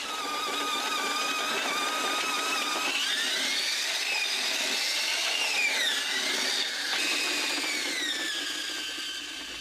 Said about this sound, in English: The miners are constantly drilling new holes for explosives